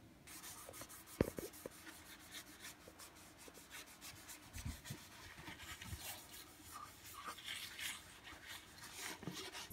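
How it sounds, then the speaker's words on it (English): A coarse sponge rubs back and forth over a rust stain on a porcelain sink, making quiet, uneven scratchy strokes with a few small knocks, close and faint. "I've been scrubbing with the like coarse side of the sponge on the stain"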